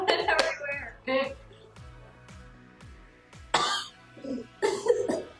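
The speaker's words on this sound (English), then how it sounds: "Why am I coughing?" Several sharp coughs and throat-clearing bursts come in quick clusters and single hacks close to the microphone, with a faint hum underneath, while someone mixes moldy food into slime.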